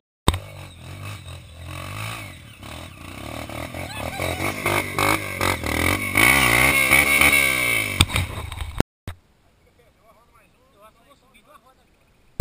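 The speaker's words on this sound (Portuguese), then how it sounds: "A moto dele sobe da vez." A motorcycle climbs a dirt trail toward Cubas, its engine roaring loud and close with rising, revving pitch for about nine seconds before cutting off abruptly into near silence.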